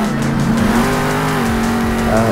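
Bakugan Dragonoid monster truck in the Monster Jam Steel Titans video game, its engine droning steadily at close range with pitch shifts as it accelerates, plus brief tire squeal near the end; no talking.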